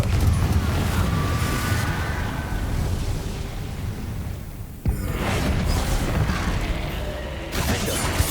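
A Confringo fire spell blasts in Hogwarts Legacy as a sharp, loud burst. It sits inside a dense, continuous wash of roaring combat noise that swells and surges throughout.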